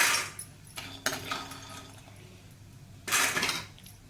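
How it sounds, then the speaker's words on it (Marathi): Fried sandge, sun-dried lentil dumplings, being lifted out of a kadai, giving a few short scraping clinks of a metal spoon against the pan with soft rustling between them. "ते आपले सांडगे भाजून झालेले आहेत ते आता आपण काढून घेऊया"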